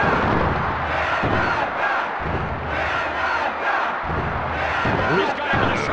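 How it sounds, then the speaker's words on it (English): Loud, dense wrestling arena crowd roar from the WWF War Zone video game, a continuous wall of cheering and shouting with swelling surges throughout. "The capacity crowd comes alive. I can hardly hear myself talk."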